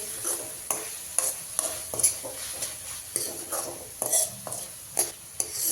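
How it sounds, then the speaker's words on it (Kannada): Cowpeas (karamani) frying in oil in a pan, with a steady high sizzle and a stirring spoon scraping and clinking against the metal in irregular knocks every half second or so, close and moderately loud with no talk. "ಈಗ ನಾನೇನು ಮಾಡ್ತೀನಿ, ಈ ಥರ ಫ್ರೈ ಮಾಡ್ತೀನಿ. ಸ್ವಲ್ಪ ಎಣ್ಣೆಲಿ ಇದೆಲ್ಲ ಫ್ರೈ ಆಗಬೇಕು"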